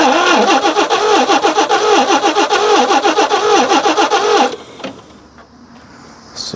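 A Nissan Patrol G60 engine cranks over with a loud, rhythmic starter churn lasting several seconds, then cuts off, leaving near quiet without settling into a clear idle.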